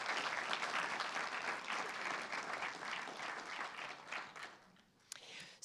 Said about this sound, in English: So I would like to give them all a round of applause